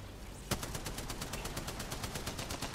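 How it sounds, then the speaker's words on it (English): Rapid automatic gunfire in the Apex Legends battle royale game, a sharp burst followed by a steady stream of evenly spaced shots, loud and close throughout. "Laying down cover fire."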